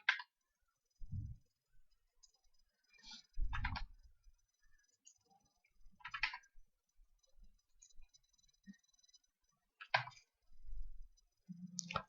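A computer mouse clicks while someone edits a form in Google Docs. The soft, close clicks come in sparse, irregular pairs and singles, with quiet pauses between them.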